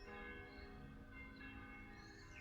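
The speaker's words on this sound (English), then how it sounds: "not on the bells that are ringing" Church bells ring outdoors during an open-air qigong session, a faint, distant sustained tolling that blends into steady background ambience, with no voices.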